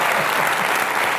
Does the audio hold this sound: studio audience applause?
yes